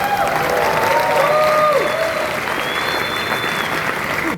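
Audience applause fills the room steadily and loudly throughout, with faint tonal sounds drifting over it and no speech on top.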